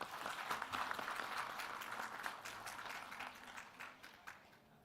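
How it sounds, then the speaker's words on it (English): Audience applause for the moderator at a panel discussion on economic growth in India's North-East, soft and distant, a steady patter of clapping that gradually thins out toward the end. "Please welcome Shri Loken Das with a big round of applause"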